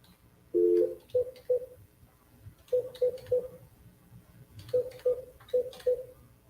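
A telephone number being dialed: clear keypad tones beep in three separate groups, a long first tone and then quick runs of short beeps with pauses between groups, at moderate loudness over faint background hiss.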